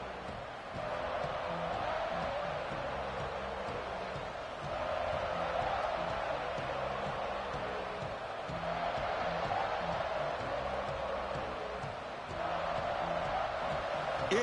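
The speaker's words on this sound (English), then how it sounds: "It's early, but this crowd is fired up. Listen to this noise here." Football stadium crowd at a college playoff game, Florida at Houston, a steady distant roar of cheering and noise that swells in waves, with no one talking over it.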